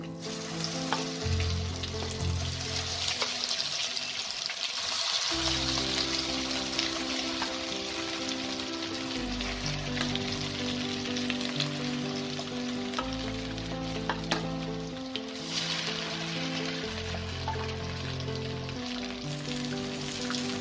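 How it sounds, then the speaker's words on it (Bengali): A second batch of fish fries in hot oil in a kadai, a loud, constant sizzle and crackle with occasional stirring, running steadily throughout. "ঠিক একইভাবে আমি সেকেন্ড ব্যাচটাও ভেজে নেব।"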